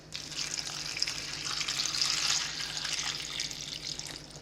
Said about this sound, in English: I'm going to add another quart of water on top of that